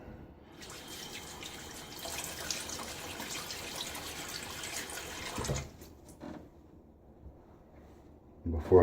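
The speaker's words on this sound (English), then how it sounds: "So I'm gonna get my face wet." Water runs from a bathroom tap as a face is splashed before a wet shave, a steady splashing flow that cuts off, followed by faint drips and a few handling sounds.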